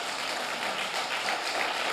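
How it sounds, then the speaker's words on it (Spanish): A church congregation claps in a steady, even patter of many hands, moderately loud and sustained throughout, with no speech on top. "alguien use sus palmas y dele un aplauso al apóstol Pablo"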